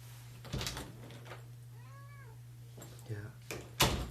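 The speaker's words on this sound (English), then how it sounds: "Sorry, my cat wants back in now." A house cat meows to be let back indoors, giving one faint, drawn-out meow in the middle. Sharp thumps or knocks come before and after, over a steady low hum.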